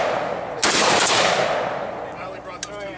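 A shotgun fired at an outdoor shooting range: one loud, sharp blast with a long rolling decay, then a second, fainter shot a couple of seconds later.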